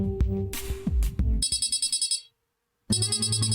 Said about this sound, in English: You're woken by the sound of your alarm.